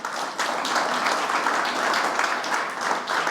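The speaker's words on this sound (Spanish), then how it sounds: "Denle un aplauso al Señor en este día." A church congregation applauds during a baptism service, a steady wash of many hands clapping at moderate loudness with no talk over it.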